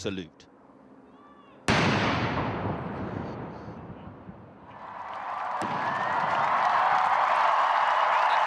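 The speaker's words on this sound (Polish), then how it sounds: "na jej cześć 82 armaty oddały salwę" A sudden loud boom from an 82-gun artillery salute at Queen Elizabeth's Platinum Jubilee starts a long rumbling roll, followed by crowd noise that swells and stays loud.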